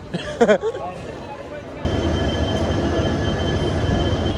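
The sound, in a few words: train arriving at Old Delhi railway station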